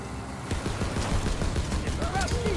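Mounted machine gun fires in a Call of Duty WWII battle, a dense, continuous rattle of shots layered with vehicle rumble and distant explosions, while voices shout over the action.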